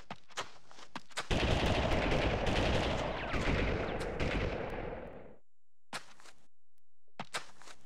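A sustained burst of rapid gunfire in the PS1 game Army Men 3D roars for several seconds, bracketed by sharp isolated shots and quieter gaps.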